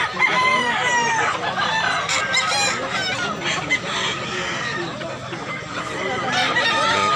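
Several roosters crow over and over, loud and close, with clucking hens and a busy farmyard murmur running underneath throughout, at a chicken market in Mantalungon, Barili, Cebu.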